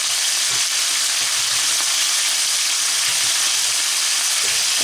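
Meat browning for Hungarian goulash sizzles steadily in a hot pan, a loud continuous hiss and crackle with small stirring bumps and no talk.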